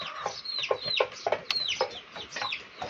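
Chickens and a rooster cluck repeatedly in short, uneven bursts, some calls rising sharply, close by amid a busy yard of overlapping fowl voices with no talk.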